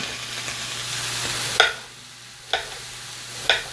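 Broccoli and pork stir-frying with sauce in a pan, a steady close sizzle with three sharp clattering stir strokes, alone without talk.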